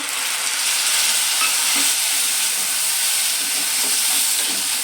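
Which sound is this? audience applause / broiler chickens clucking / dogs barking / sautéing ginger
sautéing ginger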